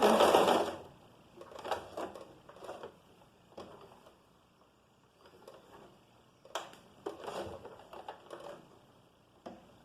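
A domestic sewing machine stitches a short seam on fabric and pauses at a corner to turn the cloth, producing quiet, intermittent bursts of needle rattle separated by gaps, with no one speaking.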